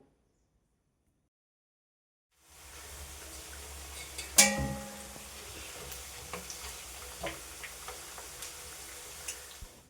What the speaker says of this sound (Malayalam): കോൺഫ്ലോർ ഒക്കെ ഇട്ട് പിടിപ്പിച്ച് വെച്ചിട്ടുള്ള ആ ഉരുളക്കിഴങ്ങിൻ്റെ കഷ്ണങ്ങളുണ്ടല്ലോ അത് നമ്മൾ ഈ എണ്ണ ചൂടാകുമ്പോൾ അതിലേക്ക് അങ്ങോട്ട് ഇട്ട് കൊടുക്കുകയാണ്